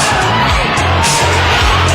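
A football stadium crowd rises in a loud, dense roar of cheering and shouting that swells and holds throughout, with scattered whoops over the mass of voices.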